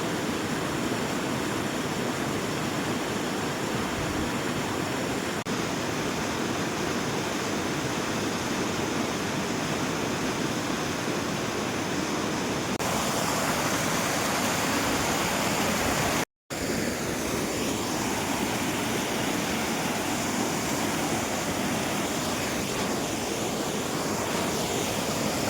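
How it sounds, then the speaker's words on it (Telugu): Panchghagh Falls in Jharkhand, with rushing water pouring in a loud, steady, broad roar that continues unbroken apart from one brief cut, and no voices. "ఈరోజు వచ్చేసి పంచగంగ వాటర్ ఫాల్స్ అండి"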